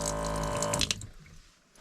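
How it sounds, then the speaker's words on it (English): Electric running water from a small custom sink in a converted 2000 GMC Safari AWD camper van flows in a steady close rush, then cuts off and leaves a faint quiet tail. "we have this gorgeous cabinet set up with a custom sink,"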